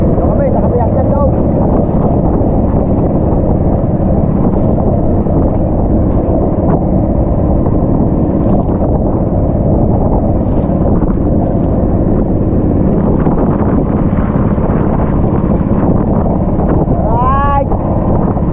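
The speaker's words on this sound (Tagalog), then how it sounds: "Sobrang lakas ang hangin." Strong wind blasting across a microphone out on open water, a loud, steady roar that fills the whole clip, with a faint voice beneath it.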